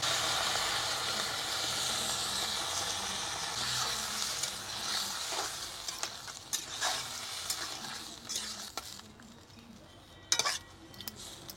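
Crab curry with potatoes in a pan after the masala is fried down, as water goes in: a constant close hiss and sizzle with light metal clinks of a spoon, a few scrapes late on, no voices.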